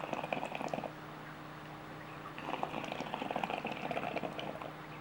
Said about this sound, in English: Probably a very particular bubble, like a pot bubbling sound that it makes when the water is just enough.